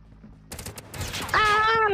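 Shotgun fire in Call of Duty Mobile: a quick burst of sharp gunshot blasts in close succession, then a rising tonal game sound, loud and near.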